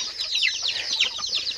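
A brooding hen with newly hatched chicks gives off a rapid run of high, thin peeps and chirps, close and fairly loud, with no talking.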